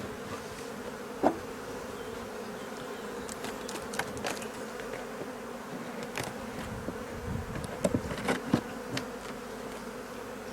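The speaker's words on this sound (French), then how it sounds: "Dès l'instant qu'il commencera à chauffer les ruches, on va voir les abeilles sortir." Honey bees buzz in a steady, close swarm hum around an opened beehive during a swarm-cell check, with occasional louder passes near the hive and faint handling knocks.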